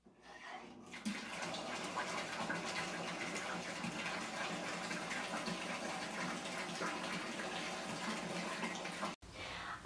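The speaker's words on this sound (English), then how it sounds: "So I am going to fill up my tub the rest of the way and hop on in" A bathtub filling steadily from the tap for a bath with a bath bomb, a continuous loud gushing rush of water that runs unbroken for nearly the whole stretch before cutting off abruptly near the end.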